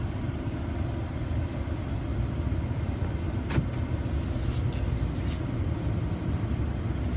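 2007 Ford F-150 XLT Crew Cab pickup driving, a steady low engine and road rumble heard from inside the cab with a small shift in tone as the transmission changes gear.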